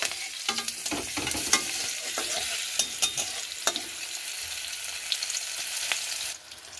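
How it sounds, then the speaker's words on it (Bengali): Oil sizzles steadily with a close, continuous crackle, punctuated by scraping stirs and a few sharp pops from slit green chillies and nigella seeds frying in hot oil for a fish curry. "এখন আমরা ওই একই গরম তেলে চেরা করে কাঁচা লঙ্কাগুলো দিয়ে দেব"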